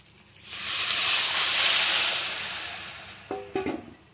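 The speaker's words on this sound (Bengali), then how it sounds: "এবার আমি ঝোলটা ঢেলে দেবো।" Broth poured into a hot pan of fried cumin and ginger paste gives a loud surging hiss that swells and fades, followed by a few clanking knocks of utensils.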